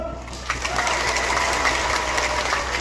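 A crowd at a local election candidates' meeting claps steadily, a dense patter of many hands applauding at a moderate distance without pause.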